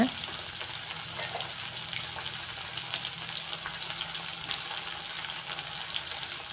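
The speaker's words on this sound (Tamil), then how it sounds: "எல்லாத்தையும் நல்லா எண்ணெய் முதுங்குற அளவுக்கு நல்லா வணக்கி விட்டுக்கோங்க." Onions sautéing in oil in a pan with tamarind for a coconut chutney, giving a steady, close sizzle and frying crackle throughout with faint stirring.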